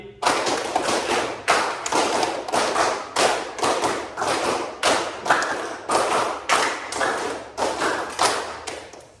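A class of students claps hands together in a rhythmic counting pattern, sharp loud slaps arranged in repeated groups with short pauses between them and an echo in the room.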